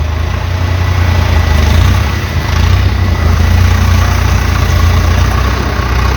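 A Japanese Kubota 95 hp tractor engine idles close by, a loud, steady low rumble that barely wavers.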